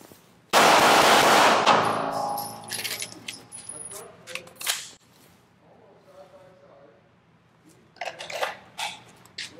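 A pistol tactical reload up close: a sharp metallic clack, then a series of clicks and rattles as one magazine is stowed and another is drawn and seated, with someone talking quietly between the handling noises.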